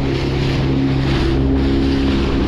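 A motor dinghy's outboard engine drones steadily and loudly across the water, with wind buffeting and splashing mixed in, continuous and close with no talking.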